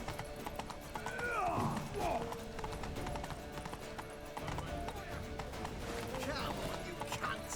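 Hooves clip-clop at a run with a brief whinny in The Witcher 3: The Wild Hunt, set against a busy game soundtrack and voices talking throughout.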